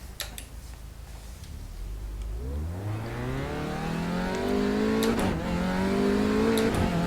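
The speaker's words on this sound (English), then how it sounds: "So we'll head out of the pit lane and take it for a spin, see how it goes." A race car pulls out of the pit lane onto the track, its loud engine rising steadily in pitch as it accelerates through the gears, with a few sharp ticks and clicks near the start.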